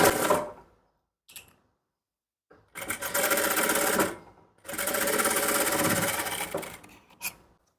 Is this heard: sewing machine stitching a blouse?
yes